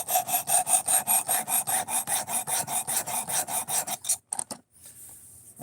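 A knife edge is sharpened with rhythmic rasping strokes, about twenty even passes over four seconds, close and loud, ending in a few scattered scrapes and a brief pause.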